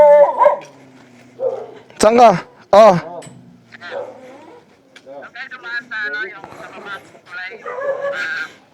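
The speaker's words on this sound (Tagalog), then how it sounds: "Ingay yung aso eh." A dog barks in a few sharp, loud yips close by at a roadside stop during a motorcycle ride from Caloocan to Baguio, with people talking around it.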